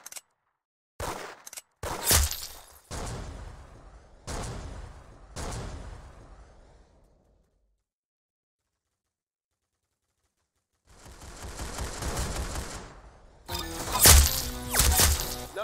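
Rapid bursts of gunfire in the Roblox shooter game Arsenal, several sharp volleys in the opening seconds, a stretch of silence, then dense sustained firing returning loudly at the end.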